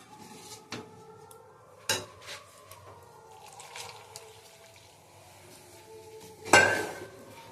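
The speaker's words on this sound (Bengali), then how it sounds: "এবার আমি নাড়তে থাকবো।" A spatula stirs food in a kadai, giving sparse metallic knocks and soft scrapes over a quiet room. A louder clatter of metal comes near the end.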